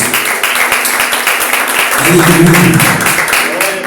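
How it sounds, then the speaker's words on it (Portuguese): A church congregation claps throughout, a steady crowd patter that swells in the second half, with singing or voices rising over it. "Você pode aplaudir a Jesus."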